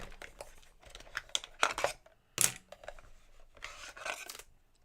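Scissors being rummaged and handled nearby, a run of quiet metallic clinks, scrapes and rubbing bursts with one brighter clack, no talking.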